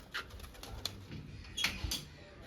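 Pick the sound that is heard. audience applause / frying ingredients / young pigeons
young pigeons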